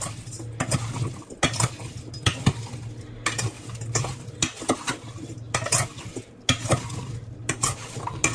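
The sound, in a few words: mixing sliced apples with sugar, vanilla and vinegar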